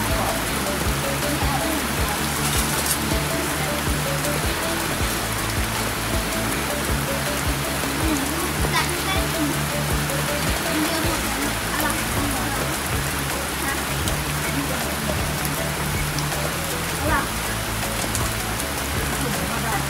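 Rain falling outdoors at a field in the countryside, a dense, steady wash of drops that stays loud and even throughout.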